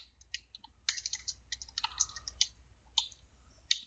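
Quiet, close computer-keyboard typing of a hello world script, with irregular bursts of clicking keystrokes and short pauses between.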